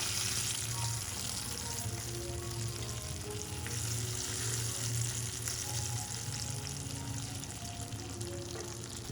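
Onions and long-sliced green chilies fry in a pan for mutton dal gosht, giving a steady, loud, close sizzle with faint stirring, and no voices.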